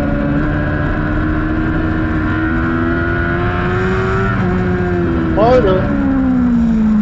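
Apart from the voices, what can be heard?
superbike racing motorcycles passing at Grattan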